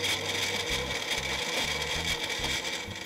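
Blender pulsing olive oil and vinegar dressing with salt and pepper, a loud, close whirring roar driven in short repeated bursts with uneven gaps.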